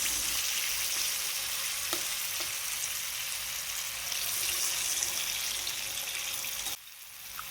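Ripe jackfruit unniyappam batter fries in oil in an unniyappam pan, giving a steady close sizzle with faint stirring clicks. The sizzle drops away abruptly just before the end.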